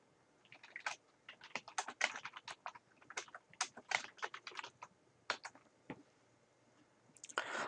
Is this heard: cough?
no